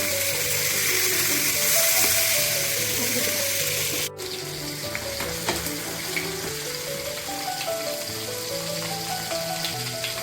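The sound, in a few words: fish (karimeen) frying in a pan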